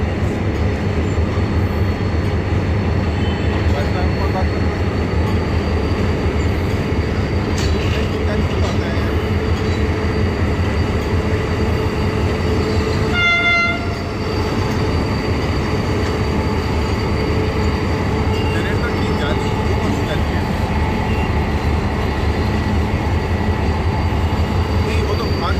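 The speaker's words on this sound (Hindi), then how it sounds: "इस वक्त 36 down sir Syed express HGM 38217 के साथ अपने लास्ट स्टॉप यानी कराची सिटी रेलवे स्टेशन की तरफ" The 36 Down Sir Syed Express runs toward Karachi City railway station, a loud continuous rumble of rolling wheels and carriages heard from on board, with rail clatter and a brief squeal partway through.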